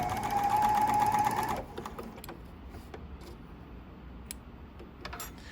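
A BERNINA L460 overlocker sews a flatlock seam with a fast, loud, steady mechanical whir for about a second and a half. It then stops, leaving scattered soft clicks and handling noises.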